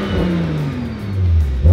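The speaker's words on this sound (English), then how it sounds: "So much more turbo noise." A BMW turbocharged engine (N55, N54 or B58 family) fitted with a VRSF muffler revs briefly and loudly, its low drone falling in pitch before a fresh rise near the end, heard alone with no talking.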